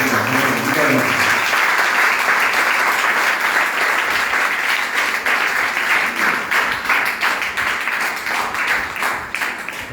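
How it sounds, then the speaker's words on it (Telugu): Loud, sustained applause from a congregation at a fasting prayer meeting, a steady dense wash of clapping lasting throughout, with faint voices beneath it. "నమ్మిన వారందరూ గట్టిగా చప్పట్లు కొట్టి"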